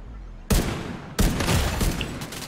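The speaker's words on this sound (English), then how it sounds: "Two shots from that sniper, mate." Two loud, close sniper rifle shots in the video game The Division 2, each a sharp broadband crack followed by a long rumbling echo, the second coming under a second after the first.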